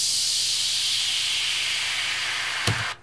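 A bright, airy white-noise hiss, used as a sound-design layer in a beat for a track, washes steadily and slowly thins before a short thump and an abrupt cutoff at the end.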